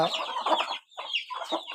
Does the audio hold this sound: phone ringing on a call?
no